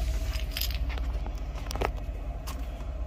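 Brief metallic jingles of keys in a truck's ignition sound close by over a low engine rumble during an air brake test.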